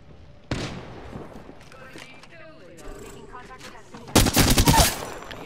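Gunfire crackles in a video game: one sharp shot early on, then a loud, dense burst of rapid automatic fire near the end, with a person talking in the quieter stretch between.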